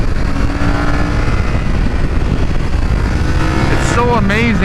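Tuned, ECU-flashed 2023 Yamaha R7 motorcycle engine held at steady revs, loud and close, with a brief rising rev near the end.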